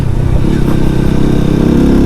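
A KPR 200 motorcycle engine runs steadily under load on a test ride, a loud, continuous low throbbing drone with no speech over it.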